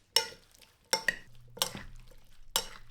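Thai chicken and shrimp salad (yam kai kung) being tossed with vegetables in a bowl, giving four separate bursts of clinking and rustling mixing with brief gaps between them, fairly near and moderately loud.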